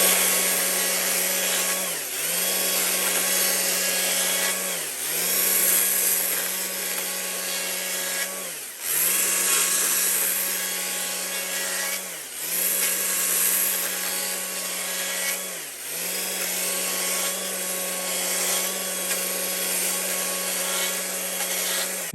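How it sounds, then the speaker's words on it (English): Chainsaw running steadily while carving wavy texture lines into a wooden Christmas tree, a loud continuous buzzing engine that dips briefly about every three seconds as the bar sweeps back and forth, close and without talk. "you take the chainsaw and you run it this way. And you just kind of make wavy lines like that."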